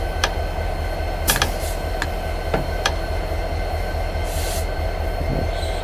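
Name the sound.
diesel train braking in video game Train Simulator 2017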